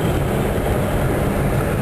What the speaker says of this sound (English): Now I'm gonna have a race with that train.